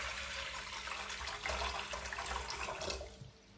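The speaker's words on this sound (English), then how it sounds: "A little bain-marie. Some water that's been previously boiled," Previously boiled water poured into a bain-marie, a steady close rushing splash that thins out toward the end.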